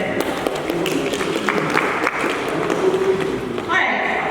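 Audience applause at a WordCamp Jinja digital marketing talk, a steady broadband clapping wash filling the whole stretch at moderate level, with faint voices mixed underneath.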